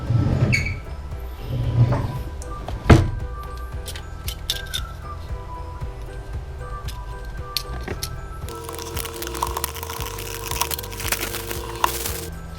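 A Dragon Touch Vista 5 action camera box is opened by hand, with close crinkling, tearing and cardboard clicks in irregular bursts, louder at first, then quieter rustling and sliding of packaging.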